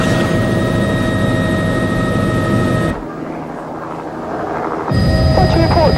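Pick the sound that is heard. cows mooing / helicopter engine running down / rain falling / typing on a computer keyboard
helicopter engine running down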